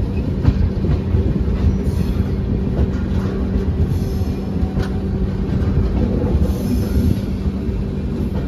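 The New Delhi–Kathgodam Shatabdi Express rolls along the rails with a steady, loud rumble and rhythmic clickety-clack from the wheels, heard continuously from on board with no talking.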